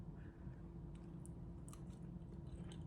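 Someone chewing a bite of hot cheesy baked penne chicken pasta, soft close mouth sounds with faint squishy bites and small smacks, quiet and brief with no talking.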